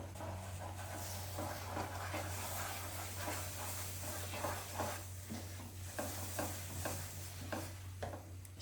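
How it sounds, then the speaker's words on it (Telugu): Sesame seeds being stirred into hot jaggery syrup in a pan for sesame laddus, heard as a close, steady run of scraping stirring strokes over a constant hiss, with no talking. "ఇప్పుడు మనం నువ్వులు వేసుకుంటూ కలుపుకుందాం"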